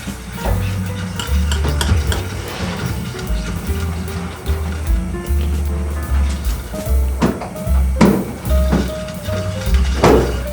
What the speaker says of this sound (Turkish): Kek karıştırıyorum.